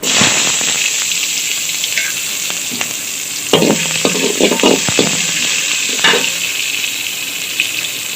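Onions frying in a pan for a Tamil cabbage kootu, a steady loud sizzle with bursts of stirring and scraping spread through it.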